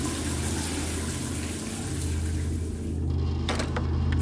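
Shower water pours steadily and heavily in a steamy bathroom, a dense continuous hiss with a low hum beneath, close and loud, with a few brief knocks near the end.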